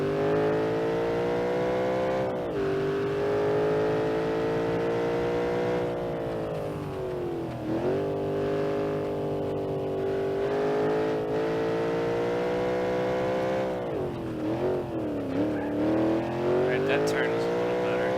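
Track car engine in BeamNG.Drive driving a lap, a loud continuous drone whose pitch rises and falls with throttle and gear changes, dipping sharply around corners, with a voice talking over it.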